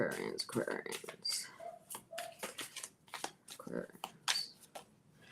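Someone shuffles a personal tarot card deck, with soft papery riffles and flicks mixed under continuous close speech.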